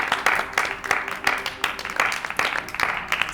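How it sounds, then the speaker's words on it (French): Applause from players greeting a new character, the reaper, in a Blood on the Clocktower game session: steady rhythmic clapping over about three seconds, fairly close, with voices talking underneath. "On peut applaudir le faucheur les amis."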